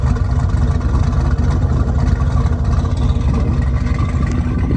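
A car engine revs hard with a Flashark electric exhaust cutout open, giving a loud, rough, continuous exhaust roar close up with a throbbing low rumble and no talking.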